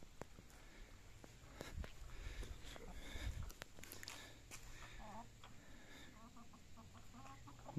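Chickens cluck softly and intermittently close by, with scattered pecking and scratching sounds and a low background hum.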